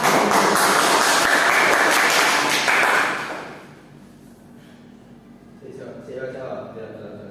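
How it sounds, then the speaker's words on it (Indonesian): Classroom applause for a pupil during a second-grade maths lesson on measuring weight, a burst of many children clapping that fades out after about three seconds, followed by quieter room sound and voices. "Tepuk tangan untuk Mas Dana"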